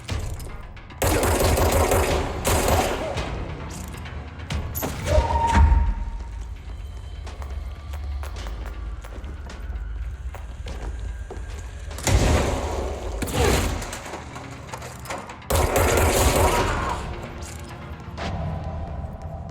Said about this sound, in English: this guy was shooting bombs at me